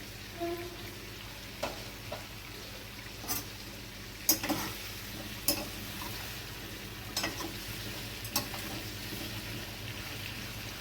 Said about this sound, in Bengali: গ্যাসটা মিডিয়াম করে দিয়ে পেঁপে আর আলুটা একটু ভাজা হতে দেব